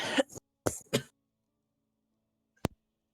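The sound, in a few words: cough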